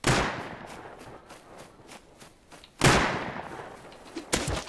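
Video game gunfire: a sharp opening shot, then a string of quieter rhythmic pops, and two more loud cracks near the end, close and punchy with no talk.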